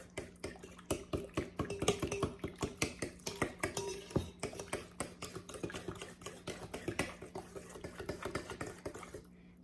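Red velvet cake mixture stirred by hand in a bowl makes a quick, even run of soft clicking and scraping strokes, faint and close, with no one speaking.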